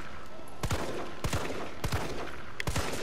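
Gunfire from the Resident Evil 3 Remake: four or five sharp, separate shots crack out at irregular intervals over a steady background hum, loud and close.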